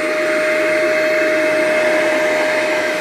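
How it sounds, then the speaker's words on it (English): A vacuum cleaner and a hair dryer run together as a loud, steady indoor roar with a sharp whine holding one pitch, continuous and unbroken with no talking. "I have two examples, a vacuum cleaner and a hair dryer."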